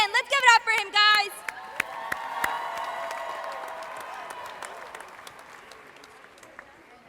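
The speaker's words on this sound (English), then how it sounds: "So let's give him another round of applause." Audience applause and cheering at a celebration for a championship girls' high school softball team, broad clapping swelling after a few raised voices, then fading gradually over several seconds.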